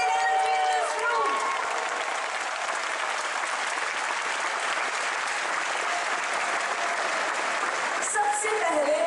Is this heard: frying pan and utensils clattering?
no